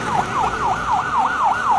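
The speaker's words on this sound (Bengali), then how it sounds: "এই মুহূর্তে ফায়ার সার্ভিসের গাড়ি আসছে" A fire engine's fast wailing siren sweeping up and down in quick repeated cycles, loud and close, with faint road rumble beneath, on a highway at a fire at a CNG filling station.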